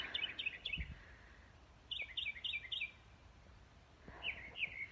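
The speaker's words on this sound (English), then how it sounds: "We have 1 mockingbird in the yard." A mockingbird in a backyard garden in late May sings three separate bursts of rapid, repeated chirping phrases with short pauses between them, fairly faint and a little distant, with no talk.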